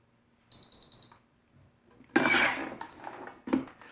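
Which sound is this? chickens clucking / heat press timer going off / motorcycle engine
heat press timer going off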